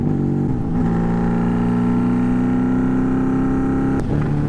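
A Honda Magna motorcycle engine sounds loud and close during a ride, with a steady droning hum and a brief shift or rev change near the start and again near the end.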